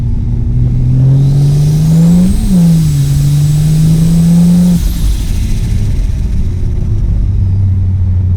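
A 620 hp turbocharged Ford Falcon engine revs hard and climbs through second gear with a turbo whine riding on top, then drops off to a lower idle-like drone.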